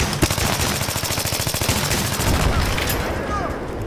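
Rapid automatic gunfire strikes a player in the video game Take Us North, a dense, evenly spaced rattle of shots running for a few seconds before tapering into a rougher wash of noise.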